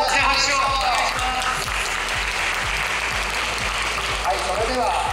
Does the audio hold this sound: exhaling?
no